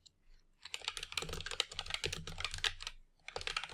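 Rapid typing on a computer keyboard, a dense run of close, crisp key clicks with a brief pause midway before the tapping resumes.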